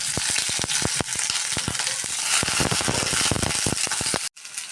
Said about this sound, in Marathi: थोडं अर्ध्या पळी तेलामध्ये थोडंसं तेल गरम झालं की त्याच्यामध्ये आपल्याला ह्या शेंगा टाकायच्या.